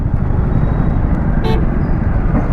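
Amid the dense rumble of a Delhi traffic jam, a car horn honks once, loud and near, over constant engine and road noise.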